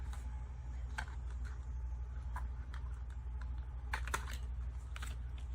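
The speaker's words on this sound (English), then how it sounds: "I'm taking my scissors and I'm going to remove the excess" Scissors trim the excess patterned paper from a card panel: a few sharp, light snips and clicks come close, spaced irregularly over a faint steady room hum.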